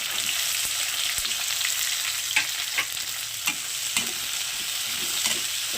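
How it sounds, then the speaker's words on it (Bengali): Onion and capsicum sauté lightly in a pan, giving a continuous mid-level sizzle. Repeated scraping clicks of a stirring utensil are scattered through it. "পেঁয়াজ আর ক্যাপসিকামটাও এখন আমি একটু হালকা সাঁতলে নেবো"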